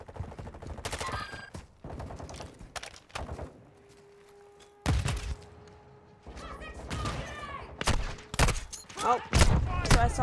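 Sniper rifle fire in the video game Call of Duty: Modern Warfare 2, loud sharp shots punctuating busy in-game sounds with scattered bangs and thuds, no talking.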